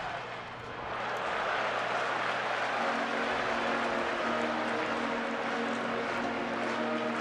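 A baseball stadium crowd roars steadily as it rises to its feet for a 3-2 pitch, a loud, continuous wash of cheering at a distance that swells early and then holds.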